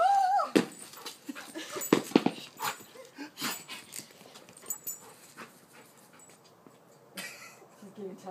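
A dog named Roxy whimpers and pants close by outdoors, with short high whines and breathy gasps coming in uneven bursts, with scattered rustling between them.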